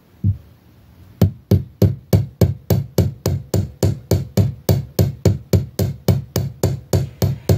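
Steady metallic hammer taps on metal wire while making earrings, about three per second, evenly spaced and close, ringing slightly over a quiet background after a brief pause at the start.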